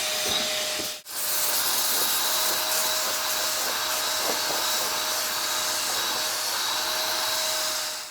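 A UWANT Y100 spot cleaner hisses a loud, continuous jet of steam through its attachment, broken by one brief pause near the start, then a steady close rush.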